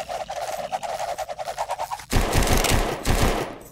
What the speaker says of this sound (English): He's shooting him.